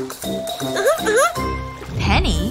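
Cartoon tea pouring from a pot, bright tinkling and liquid gurgling notes with rising swoops, mixed with a character's playful voice.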